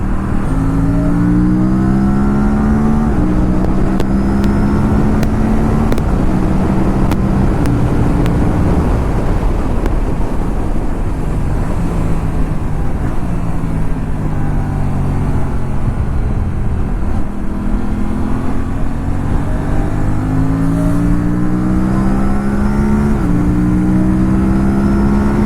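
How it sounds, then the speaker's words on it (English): An Aprilia RS 457 motorcycle with a quickshifter downshifts from fifth to second, its loud, continuous engine note jumping in pitch at each gear change while riding on a highway. "Now I will downshift 5th, 4th, 3rd, 2nd. Wow, this quick shifter is working beautifully."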